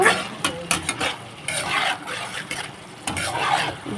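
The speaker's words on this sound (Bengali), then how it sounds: "তো তরকারিটা কিন্তু ভালোভাবে কষে নিচ্ছি, এতে কিন্তু আদা রসুন দিয়ে দিয়েছি" A curry with ginger, garlic and a full mix of spices is stir-fried in a pan. A spatula scrapes and clatters in quick, irregular strokes over a soft sizzle, close by, with no voices.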